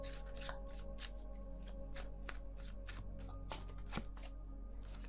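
Tarot cards shuffled by hand and drawn during a reading, a close, steady papery riffling with sharp snaps and flicks scattered throughout, no voices.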